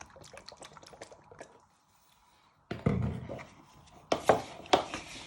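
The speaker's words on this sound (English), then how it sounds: "You want to put a splash of soy sauce." Soy sauce splashes into a pan of beef strips being prepared for Mongolian beef, a brief liquid pour and sizzle standing out against quiet kitchen sounds.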